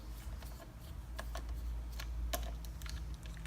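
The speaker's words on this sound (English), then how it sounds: "I'm just going to move around, tighten them incrementally, a little bit at a time." Bicycle stem faceplate bolts are tightened a little at a time with a hand tool, giving a run of small, irregular clicks and ticks at close range over a low background hum.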